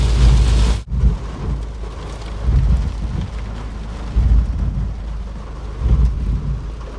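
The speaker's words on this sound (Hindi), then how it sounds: "बारिश बहुत तेज़ हो रही है।" Heavy rain pours steadily in Qatar while low rolls of thunder rumble every couple of seconds, a dense continuous wash of noise with no voices.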